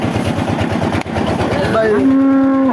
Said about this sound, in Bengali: এই যে গরুটা দেশি গরু আপনারা দেখতে পাচ্ছেন